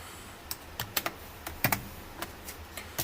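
Close, quiet typing on a computer keyboard while writing Java code, with irregular individual key clicks and small bursts, alone without speech.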